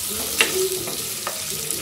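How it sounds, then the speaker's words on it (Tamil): Cabbage stirred and sautéed in a pan gives a soft steady sizzle, with a few light scrapes and clinks of the spoon against the pan. "இதோட பச்சைவாடை போகணும், அதுக்காக தான் வதக்குறோம்."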